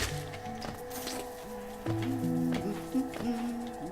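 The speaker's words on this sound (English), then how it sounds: "that's the sound of the map maker" A short, bright Hollow Knight jingle for the map maker character, stacked tones and chirps rising and falling in a playful pattern, fairly close and clear with no talking.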